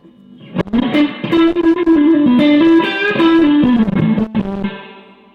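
Electric guitar played through a blues-voiced amp drenched in heavy reverb, a bluesy melodic line with sustained bent notes ringing out into a long wash of echo, loud and alone.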